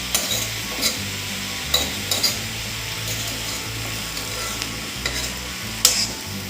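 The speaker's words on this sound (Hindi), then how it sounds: "मीडियम फ्लेम पर ही मैं अपने इन साग को या अपनी भुजिया को पकाऊंगी" Radish greens bhujiya stirred and frying in a pan over a medium flame, a constant soft sizzle with occasional scraping taps of the spoon against the pan, close up and with no voices.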